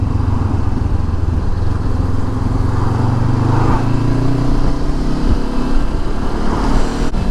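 Honda CB500X motorcycle cruising along a road in India, a steady droning engine hum with wind rush, close and continuous throughout.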